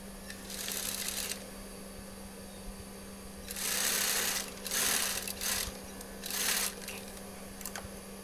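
A sewing machine stitches the shoulder seam of a koko kurta in several short, rapid bursts of whirring, with a constant low hum and quiet pauses between runs.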